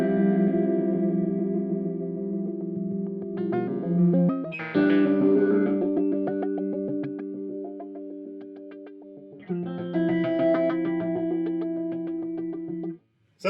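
Electric guitar through an EarthQuaker Devices Pyramids flanger pedal: loud sustained chords with a swirling, shifting metallic sweep. Notes are struck anew partway through, then cut off sharply near the end. No talking.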